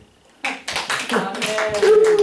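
A church congregation applauding during a Sunday sermon, clapping starting abruptly after a brief quiet moment and building into a close, uneven burst, with a voice speaking or singing over the claps.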